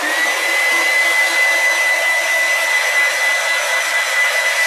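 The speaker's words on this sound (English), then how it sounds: "So I'm going to dry it with the little hair dryer here" A small hair dryer blows on a watercolour painting, giving a loud, steady whirring drone with a thin constant whine that runs unbroken throughout, with no talking over it.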